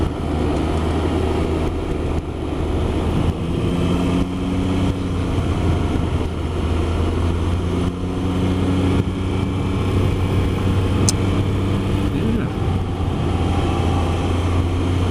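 Three-wheeler motorcycle riding the winding Tail of the Dragon road, with a steady low engine drone and wind rush running loud and unbroken throughout, no voices.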